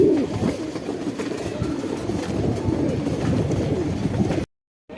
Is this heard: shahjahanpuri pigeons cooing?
yes